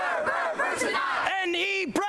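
A crowd at an early Nebraska college football game shouts in chanting cheers, voices rising together in loud rhythmic bursts with a brief pause near the end.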